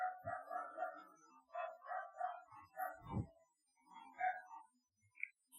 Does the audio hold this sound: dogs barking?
yes